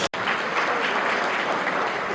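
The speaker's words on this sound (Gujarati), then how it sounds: "નિતેશ સર માટે એકવાર જોરદાર તાળી." Loud, sustained applause from an audience at a motivational talk in Surat, dense steady clapping filling the whole stretch after a brief gap at the start.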